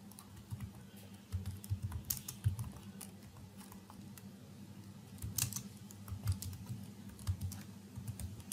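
A computer keyboard is typed on in irregular clusters of light key clicks, close and fairly quiet over a low steady hum, with no talking.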